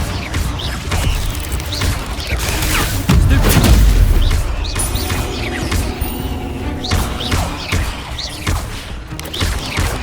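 Incendio fire spell blasts in Hogwarts Legacy, a dense stretch of booming, crackling impacts and rumbling bursts that continue throughout, loud and busy with no clear gaps.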